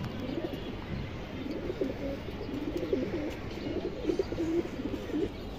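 Bezi female pigeons for sale at a Bangladeshi pigeon market coo in a steady, low, throaty chorus that rolls on continuously and fairly close, with no voices over it.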